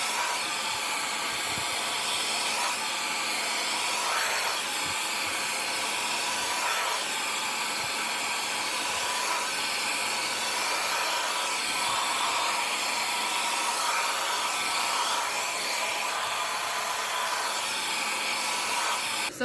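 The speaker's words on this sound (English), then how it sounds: "Tip of your blow dryer comes off." A blow dryer roars steadily and loudly while drying hair, a continuous broadband whoosh with slight shifts as it moves, and no talking.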